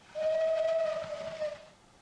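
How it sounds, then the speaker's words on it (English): A short, clear steam whistle blast from an L&Y class 23 tank locomotive in a train simulator sounds once for about a second and a half, loud and close over a faint low rumble. "Yeah, for a short whistle."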